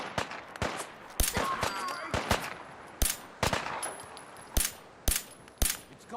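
Repeated gunshots ring out in the video game Fallout 4, sharp cracks spaced irregularly with metallic clangs and pings over a busy background, fairly close and loud.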